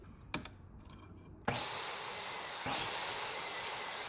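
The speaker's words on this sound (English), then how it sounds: "I'm cutting a 10-degree bevel on the edge, which will give the inverted look" A power saw cuts a 10-degree bevel along the edge of a wood board for a coffee table. After a couple of light knocks, a loud, steady whining cut starts abruptly and runs continuously to the end.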